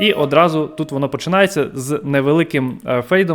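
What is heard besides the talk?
No everyday noise stands out behind the speech.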